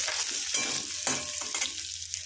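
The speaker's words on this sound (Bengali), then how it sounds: "ভেজে নিয়েছি, খানিকক্ষণ নাড়িয়ে চাড়িয়ে নিলাম" Close-up sizzling in a pan with several sharp scraping strokes of a spoon stirring, repeated at irregular intervals, while making a drumstick curry.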